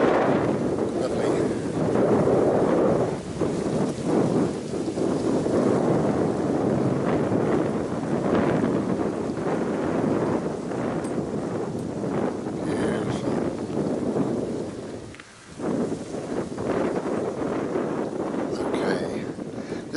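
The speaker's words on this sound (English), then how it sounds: "Windy but beautiful." Gusty wind buffets the microphone outdoors on a windy but clear day, a continuous rumbling roar that surges and eases, nearly dropping out for a moment before returning.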